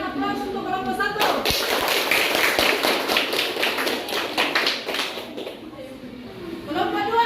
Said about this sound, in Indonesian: Oke, berikan aplaus untuk kelompok 1.